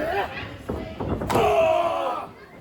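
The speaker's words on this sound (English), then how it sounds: "these two slamming into each other in the center of the ring" Wrestlers in a wrestling video game slam into each other in the ring, a few heavy thuds and a sharp crash, with a voice talking through it.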